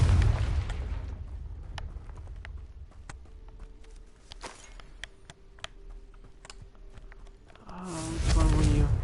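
In Hogwarts Legacy, the Confringo fire spell lands with a loud burst at the start and another heavy blast near the end, with quiet clicking and soft game sounds between the two.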